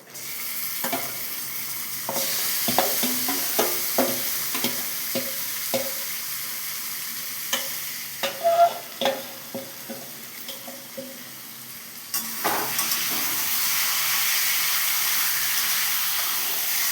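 Marinated chicken frying in a pan with onions for a chicken masala curry, a steady hiss and sizzle broken by repeated scraping stirs, close and fairly loud.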